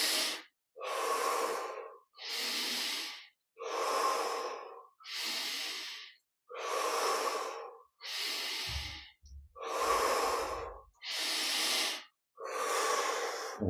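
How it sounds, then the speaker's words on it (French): Slow, deep breaths during a guided meditation, each long inhale and exhale close and clear, about nine in an even rhythm with short pauses between them. "Encore 5 grandes respires."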